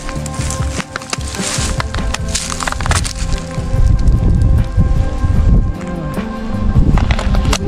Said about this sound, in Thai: ลมแรงมากขนาดลมเลยนะ